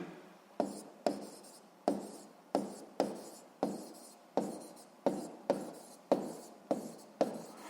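A pen strokes across paper in short, regular scratches, roughly a dozen evenly spaced marks, close by and quiet in a still room.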